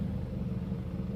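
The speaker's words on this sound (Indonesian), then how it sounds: "ada mobil pada mundur" A car reversing in a traffic jam on a busy road where a stone truck is turning around, heard as a steady low engine rumble that fills the whole moment with no clear voices.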